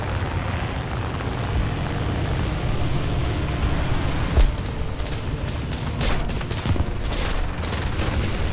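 Enemy aircraft firing on the player's plane in War Thunder, a continuous engine drone with sharp gunfire bursts and impacts clustering in the second half, fairly loud and close.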